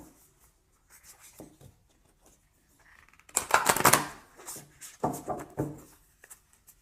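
Playing cards are shuffled and drawn during a tarot-style reading, with soft scattered rustles and then a louder dense riffle burst in the middle, followed by a few more card flicks and slides, close and alone.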